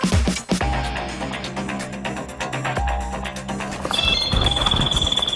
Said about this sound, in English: That's the sound of my pack alarm.